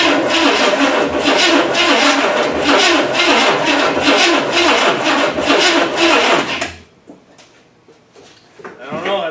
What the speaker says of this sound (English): Pushed into the shop with the Nissan, so we'll see if she even starts up.